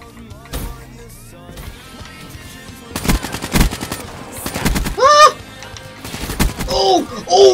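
Automatic weapon fire in the shooter game Black Ops 3 arrives in loud bursts of rapid shots, mixed with sharp game effect tones and jingles, close and prominent.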